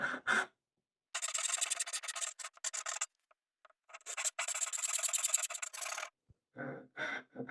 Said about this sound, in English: I'm going to chisel these back.